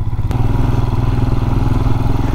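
Motorcycle engine labouring in first gear on a steep mountain pass, a loud, close, rough low drone with steady pulsing throb throughout.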